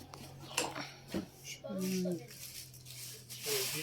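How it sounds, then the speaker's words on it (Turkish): Metal frying pans clatter and clink as they are handled and set down at home, several sharp knocks between bits of nearby talk. "Bunlar da tavalar."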